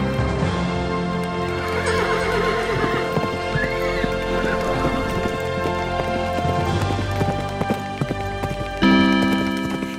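Cartoon horse neighing and whinnying with clip-clopping hooves, set over a dense, continuous music bed throughout.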